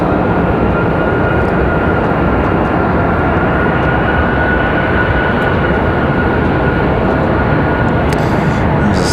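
Southwest airliner pushing back at Raleigh-Durham International Airport, heard as a loud, steady broadband jet roar with a faint whine, continuous throughout with no pauses.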